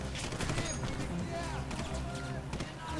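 Explosions and bursts of gunfire from a Heroes & Generals video game trailer, a busy battlefield mix of rapid shots and booms with a voice talking over it.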